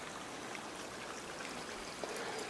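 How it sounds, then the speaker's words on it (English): Creek water runs steadily through a hollowed-out log and into an old pipe beside a lake. It makes a continuous close rushing trickle with a slight splash near the end and no voices. "Flows down this creek and then through this hollowed out log into that old pipe"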